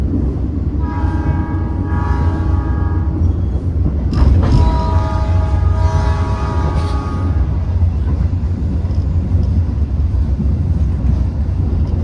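A local commuter train on the Surabaya–Sidoarjo line pulls out of Waru station, sounding two long chord-like horn blasts over a loud steady rumble of wheels and wind buffeting the microphone, the roar continuing after the horns stop.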